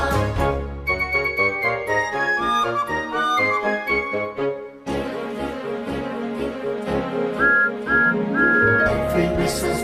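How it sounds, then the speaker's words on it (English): A bright, melodic tune of steam engine whistles, loud and continuous, with repeated high notes over a steady musical backing; no talking. "Engines blow your whistles, and let's all have some fun."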